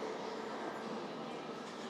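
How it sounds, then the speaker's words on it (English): A train pulls out of the Helsinki Airport rail station, a steady broadband rumble and hiss of rolling carriages at moderate level throughout, with murmured voices faintly mixed in. "that's the train leaving."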